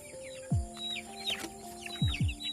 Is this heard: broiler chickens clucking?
yes